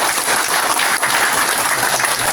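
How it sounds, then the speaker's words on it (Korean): Steady broadband clapping from a crowd at a Buddhist memorial dharma service fills the whole stretch, a dense, even patter of many hands without any voices on top. "박수 한번 보내시기 바랍니다"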